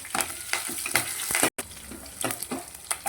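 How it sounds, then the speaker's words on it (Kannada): Mustard seeds spluttering in hot oil with garlic and curry leaves frying, sharp crackling pops over a continuous sizzle, with a brief dropout midway. "ಸಾಸಿವೆ ಚಟಪಟಿ ಇದಾಗ್ತಾ ಇದೆ, ಸಿಗುತ್ತಾ ಇದೆ."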